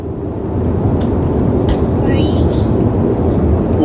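Loud, steady cabin roar inside an airplane at the rear door beside the lavatory, next to the engine turbine, a dense low rumble with faint whispery voices over it.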